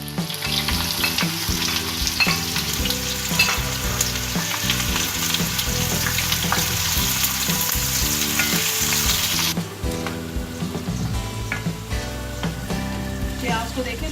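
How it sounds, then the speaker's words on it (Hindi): Onions frying in a cup of oil in a kadhai for a shimla mirch pyaz dish: a loud, dense, continuous sizzle that runs steadily throughout, with a faint tonal background underneath. "अब इसमें हम प्याज डाल देंगे।"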